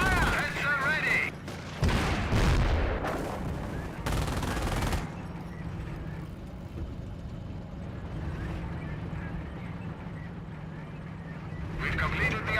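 Heavy gunfire in Company of Heroes, a World War II strategy game: dense bursts of rifle and machine-gun fire rattle loudly at the start, then continue as a lower battle din with a voice speaking over it.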